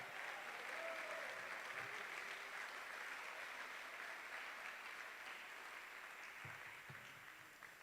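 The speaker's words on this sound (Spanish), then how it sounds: "Dale ese aplauso al Señor si puede." A church congregation applauds during a Spanish-language sermon, a dense, steady wash of many hands clapping that fills the whole stretch and tapers slightly toward the end.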